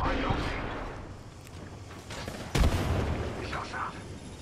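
A grenade detonates in Apex Legends with a single sharp, heavy blast midway, preceded and followed by a low battlefield rumble, while a voice speaks through the scene.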